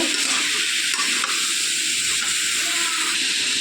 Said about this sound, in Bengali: ভালোভাবে পুরো মশলাটার সঙ্গে এটাকে কষিয়ে নেব।